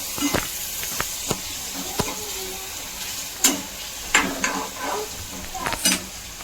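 Mashed eggplant bharta with tomatoes and chillies is stirred and mixed in a hot pan, a soft continuous sizzle broken by scattered spatula taps and scrapes, close and fairly loud.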